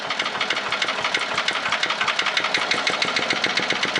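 A 1986 Little Wonder blower with a 5hp 206cc Briggs & Stratton Magnetron engine idles nearby in a smooth, even, rapid putter with a steady rhythm and no break.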